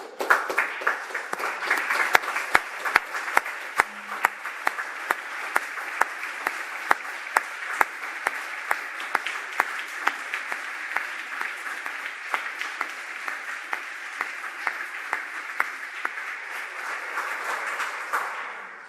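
A large meeting audience stands and applauds the Trust's staff at an annual general meeting, sustained, even clapping from many hands continuing steadily for nearly twenty seconds without speech.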